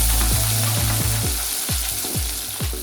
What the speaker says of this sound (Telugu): ఇందులో క్యాప్సికమ్ చేసుకుని చక్కగా మగ్గబెట్టుకోవాలి.